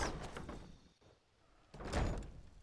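A wooden door creaks and thuds open in Skyrim, a short burst of movement followed by a quieter pause and a second louder swell of door noise, with no talk.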